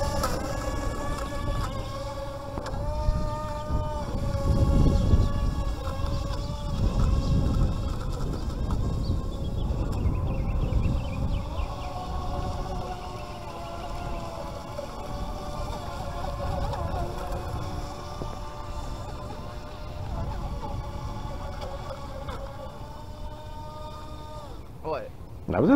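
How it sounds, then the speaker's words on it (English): A remote-control toy rescue boat motor whines steadily at full throttle, its buzzing pitch wavering as it runs, with a voice talking over it. "So that's full throttle on a rescue boat."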